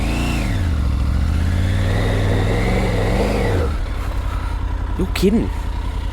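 Triumph Tiger 900 Rally Pro motorcycle engine pulling hard under acceleration, a loud, steady near roar that rises in pitch and then drops away as the throttle closes, with a rider's voice over it.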